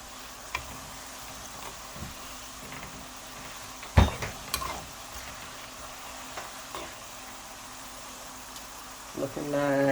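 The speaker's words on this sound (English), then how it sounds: "So here's the next set of plantain chips frying." Plantain chips frying in hot oil, a soft steady sizzle with occasional stirring clinks and a sharper knock partway through, heard close up without talk.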